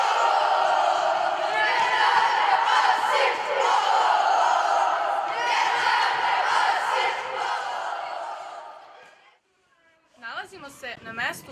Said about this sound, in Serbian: A sada ćemo vam predstaviti naš navijački program.